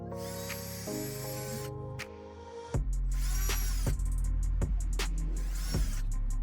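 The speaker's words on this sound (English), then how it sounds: "I'll drill new holes here so I can fasten that down to the post" A power drill whines and revs, then bites in with a loud grinding buzz broken by short clicks and pauses, close up, drilling holes to fasten a mailbox to a post.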